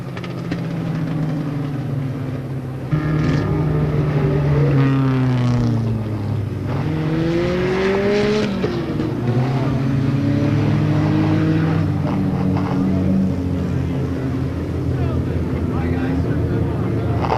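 Race cars in a weekly short-track event at Monadnock Speedway, engines droning and rising and falling in pitch as several pass, steady and loud throughout with a commentator talking over the racing.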